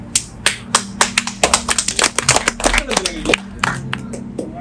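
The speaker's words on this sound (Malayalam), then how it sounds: "എന്തിനാ കൈയടിച്ചത്" An audience claps in a class, with a run of sharp, loud claps close to the listener that thin out toward the end.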